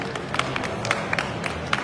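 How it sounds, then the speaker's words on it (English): Crowd at the Indy PopCon fan convention applauds, a busy wash of many hands with scattered sharper claps popping out, moderately loud and continuous over a short stretch. "Give Kat a big round of applause."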